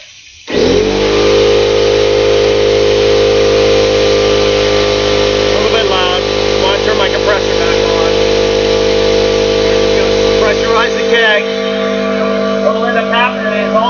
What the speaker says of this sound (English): got to turn my compressor on, so it might get a little loud